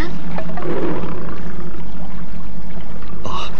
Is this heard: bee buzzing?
no